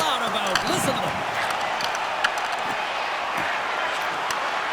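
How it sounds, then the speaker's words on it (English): An arena crowd roars for the home team during an NHL 26 ice hockey video game, a broad sustained cheer with clapping and scattered thumps, under a commentator's voice. "the home team giving the fans something to cheer and get loud about. Listen to them."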